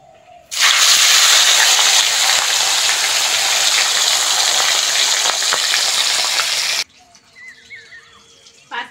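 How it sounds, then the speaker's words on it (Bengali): Fish, likened to hilsa, frying in hot oil in a pan, a loud steady sizzle running alone for several seconds before cutting off to quieter kitchen sounds. "বাকি মাছগুলো এরম ভাবে ভেজে নেবো"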